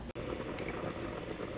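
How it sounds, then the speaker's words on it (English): Chicken boiling in a pot of water for soup, a steady close bubbling and churning that carries on throughout without a break. "my chicken is boiling"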